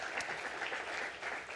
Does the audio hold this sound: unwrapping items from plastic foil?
no